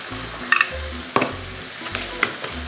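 Butter melting into a bolognese sauce in a pan, steady sizzling and frying under repeated scraping stirs of a spoon, close and continuous.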